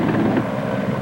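A Soviet Mi-8 Hip helicopter drones in a steady, loud, dense rotor-and-engine roar without pause, no voices over it.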